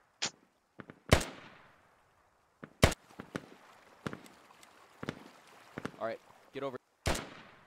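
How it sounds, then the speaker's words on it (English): Gunfire in the tactical shooter Squad: several sharp, separate shots crack out at irregular intervals, some loud and near, others fainter, with players talking over the action. "You guys are about to come up behind that dude that's shooting at us."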